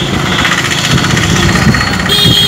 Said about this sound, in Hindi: बड़ी तेजी से बाइक पर जा रहा है